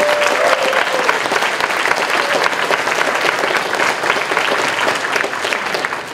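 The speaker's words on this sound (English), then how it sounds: "Give me applause." Steady audience applause fills a BronyCon 2014 animator convention panel room, a dense, loud clapping wash from a large crowd lasting throughout with no pause.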